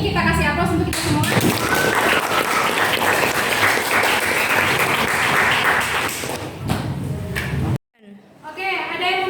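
A class breaks into loud, sustained applause in a classroom, with dense clapping for several seconds that tapers off into scattered claps and shuffling, and voices talking briefly near the end.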